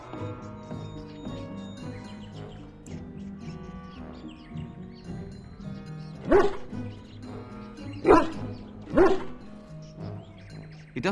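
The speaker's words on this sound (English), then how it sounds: "Puppy." A puppy in the fantasy role-playing game Dragon Age: Origins gives three short, loud yips and barks near the end, over a steady bed of orchestral game music.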